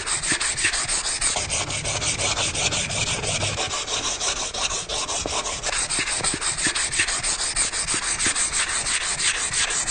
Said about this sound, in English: we are going to hand sand this and bring this up to a lovely, lovely finish